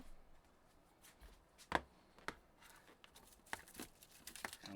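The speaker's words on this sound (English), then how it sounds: "Get some scissors and cut that." Scissors cut through cellophane while a laptop is being covered for custom painting: a handful of sharp crisp snips and crinkles over a quiet rustling background, close by.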